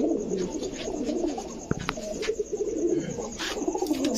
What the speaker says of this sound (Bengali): দুইটাই বিগ সাইজের কবুতর